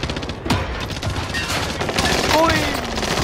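Dense gunfire rattles through a Call of Duty: Warzone Pacific match, rapid overlapping shots and bursts from several directions at close to mid range, loud and continuous, with a voice talking over it.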